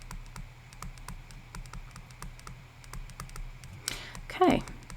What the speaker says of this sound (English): if we type this into our calculator, we wind up with -10